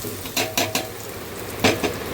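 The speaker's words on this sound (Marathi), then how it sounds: "शेंगदाणे टोमॅटो कांदा मिरची कोथमीर मिरची मी लाल मिरची घेतलेली आहे आणि ओलं खोबरं लसूण हे सगळं आपल्याला भाजून घ्यायचं आहे तव्यावर" Peanuts, tomato, onion, red chili, coriander, fresh coconut and garlic dry-roasting on a tava griddle, with several short, close scraping and stirring bursts at uneven intervals and no voices.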